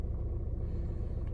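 An Alfa Romeo Giulietta engine idles with a low, steady rumble after a restart, heard close and alone for a brief moment.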